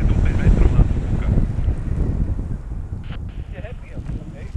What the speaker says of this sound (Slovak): teraz momentálne to ale inak dobre do 5 metrov na to fúka